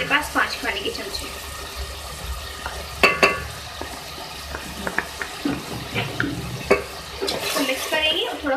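Yogurt stirred into beef keema in a pan, with wet scraping and squelching of a spoon against the pan over a soft sizzle, plus a few sharper clinks and knocks.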